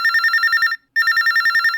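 A telephone rings for an incoming call from a farmer, a sharp, rapidly trilling electronic bell in two bursts with a brief gap between, loud and close with no talk.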